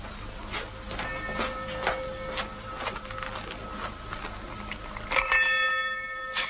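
A small hand bell, brought in and called for in an old-fashioned household, rings in a steady run of quick, light strikes with ringing tones that carry on. A louder, brighter ring comes near the end, and nobody speaks.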